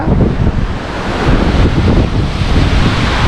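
Loud ocean waves washing ashore with strong wind buffeting the microphone on the seashore at Rameshwaram, a steady continuous roar with no voices.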